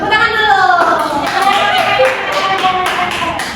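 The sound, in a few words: group clapping hands in a classroom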